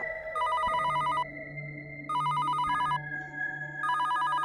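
A telephone rings loudly and close by in repeated electronic trill bursts, with a steady tone beneath and no voices.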